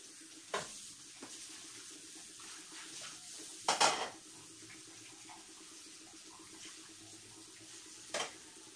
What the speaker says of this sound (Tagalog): Nagpapalit na ako ng aking hinugasan na pinggan.